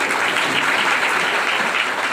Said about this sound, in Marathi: मग तर टाळ्या वाजवल्या पाहिजे